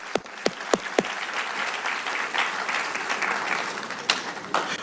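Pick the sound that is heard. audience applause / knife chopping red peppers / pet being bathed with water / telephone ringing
audience applause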